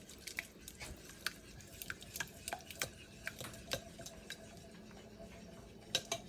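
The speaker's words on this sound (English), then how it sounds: "Now mix all the ingredients together until the mixture is creamy and smooth." Butter pecan pound cake icing being mixed until creamy, soft wet squishing with light utensil taps against a bowl, quiet and close with no talking.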